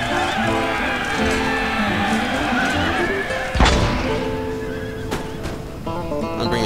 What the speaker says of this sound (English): Here comes the horses.